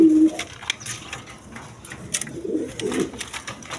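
Black Beauty pigeons at a pigeon farm coo in low, soft bursts near the start and again later, with light rustling and faint background sounds around them.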